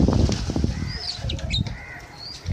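Pigeons flapping their wings at close range in a Karachi loft, a quick flurry of wingbeats up front fading into softer flutters, with faint chirps over a noisy background.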